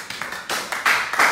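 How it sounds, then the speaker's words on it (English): Short burst of audience clapping at a talk-show style discussion, brisk and fairly close, lasting barely over a second with no voices. "Please give him a round of applause."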